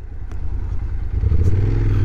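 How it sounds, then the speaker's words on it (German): Motorcycle engine held at idle and given a brief light rev, a close, loud, rough low rumble that swells slightly toward the end, with no voices. "für ein paar Sekunden einen Leerlauf ein bisschen aufdrüllen ist nicht schlimm"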